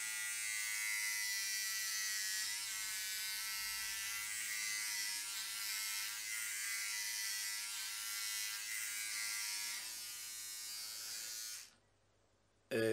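Philips OneBlade face and body electric trimmer running steadily while shaving, a continuous close buzz for about twelve seconds before cutting off abruptly, with a brief noise at the very end.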